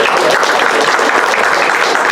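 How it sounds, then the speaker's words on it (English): An improv comedy audience applauds to vote for a scene, a loud, dense, continuous burst of clapping from a crowd close by with no talk over it. "Round of applause"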